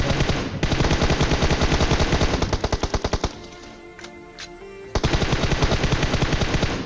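Rapid automatic gunfire from PUBG Mobile, loud and close, firing in long sustained bursts with a brief pause mid-clip before the shooting resumes.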